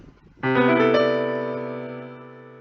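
A single rich major 7th piano chord in a spread voicing is struck once and rings out, its wide-spaced notes sustaining and slowly fading.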